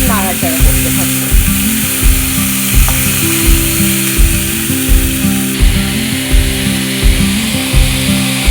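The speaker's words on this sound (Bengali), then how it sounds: "আঁচটাকে একটু কমিয়ে হালকা আঁচে কিছুক্ষণ নাড়াচাড়া করতে থাকবো" Poha is stirred in a pan over low heat, with a spatula scraping in a steady, even rhythm of roughly a dozen close strokes over a constant low hum and faint sizzle.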